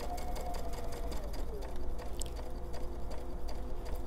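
A sewing machine runs a top stitch at a 3 stitch length while sewing a pajama set, making a quiet, rapid, even mechanical patter that continues throughout.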